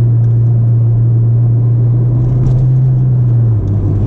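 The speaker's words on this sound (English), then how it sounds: "This thing is just so fun to downshift." A Ford Fiesta ST engine holds a loud, droning hum that climbs slightly then dips near the end during a downshift, heard from inside the car alone without talk.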